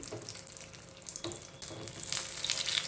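Ash gourd fritters deep frying in hot oil, a soft continuous sizzle with a few brief clatters and a slight rise in crackle toward the end, quiet and without talk.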